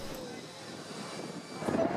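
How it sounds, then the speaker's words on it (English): A Royal Air Force C-130 Hercules, a four-engine turboprop transport, drones at an air show, a steady moderate engine rumble that swells slightly toward the end. "A highlight from the Royal Air Force, this specially schemed C-130 Hercules."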